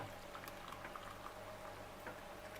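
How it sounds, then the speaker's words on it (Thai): Steady bubbling, gurgling liquid sound with a faint continuous hum underneath, like warm water at about 40-50 degrees Celsius being poured into a container, soft and close. "ราก็เทน้ำอุ่นลงไปเลยค่ะ"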